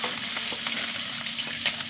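Finely chopped onion sizzles in hot coconut oil in a pan, a close, even frying hiss with light stirring scrapes and no voices.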